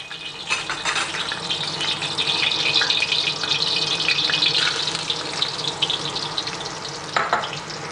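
Garlic frying in oil in a pan for char kuay teow, a steady close sizzle and crackle with occasional stirring scrapes, no talking.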